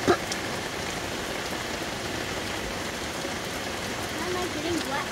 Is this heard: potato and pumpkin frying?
no